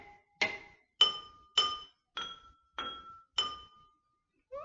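Water-glass xylophone struck with a plastic spoon, playing Twinkle Twinkle Little Star: seven clear, evenly spaced glassy pings ringing briefly, close and moderately loud, with no talking.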